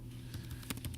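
Quick, faint clicks of keys on a computer keyboard as a web address is typed, several light taps in a short burst.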